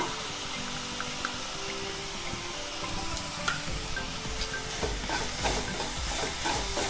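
Sweet elanji filling with sugar and cardamom powder is stirred in a hot pan, a low sizzling hiss with soft scraping strokes that grow busier and more rhythmic toward the end.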